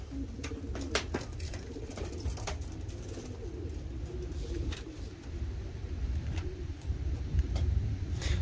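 Soft cooing of young racing pigeons under a steady low rumble of background noise, with occasional faint clicks and flutters throughout.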